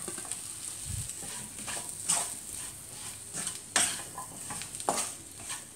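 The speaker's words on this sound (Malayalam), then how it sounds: "നന്നായിട്ടൊന്ന് മിക്സ് ചെയ്യണം" A spoon scrapes and clinks through potatoes and egg curry masala in a pan, with a soft sizzle beneath and several sharper stirring strokes at uneven intervals, close by.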